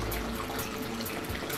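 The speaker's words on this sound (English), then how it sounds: "how this style skimmer will start pulling in air into the side intake of that pump" An automatic protein skimmer pump on an aquarium draws air and water through its side intake, making a steady, close, broadband gurgling rush like running water, with no pauses.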